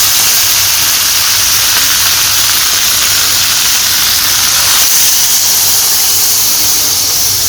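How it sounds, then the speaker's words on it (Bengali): Water poured into chicken curry cooking in a pan gives a loud, continuous steamy hiss that holds steady throughout, with a faint low hum beneath. "তখন জল দিয়ে দিই।"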